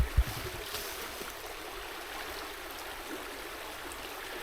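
A small rivulet of water flows steadily outdoors, a soft, continuous broadband rush with no voices, holding an even level after a brief low thump at the start.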